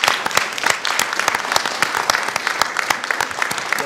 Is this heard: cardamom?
no